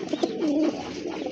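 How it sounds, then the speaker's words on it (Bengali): Domestic pigeons coo softly at a pigeon market, a short rolling coo rising clearly above a low background murmur. "মাশাআল্লাহ আরেক জোড়া কবুতর"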